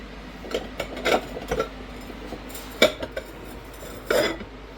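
Dishes and cutlery clatter in a home kitchen as someone searches for a bowl, with several short bursts of clinking and knocking spread across the moment, fairly close and otherwise quiet.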